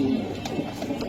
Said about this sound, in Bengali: এটা হলো বাংলাদেশের ফার্স্ট ক্লাস ড্রাগন, ড্রাগন কবুতর